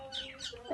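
A chicken gives a quick, faint cluck while being fed, a single short call close by.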